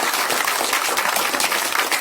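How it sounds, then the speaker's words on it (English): An audience applauding at the close of a lecture on the 2024 US election, dense continuous clapping filling the room at a loud, even level with no break. "let's give one last applause."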